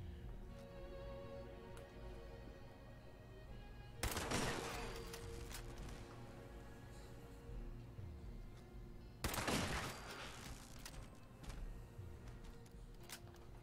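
Gunfire from a weapon in Fallout 76, with two sharp loud shots about five seconds apart standing out over a quiet, steady game background.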